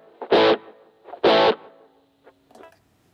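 Electric guitar through an HX Stomp Rockman-style patch with chorus and delay echo: two loud, punchy chord stabs about a second apart, each trailed by softer echo repeats that fade into a few faint ringing notes.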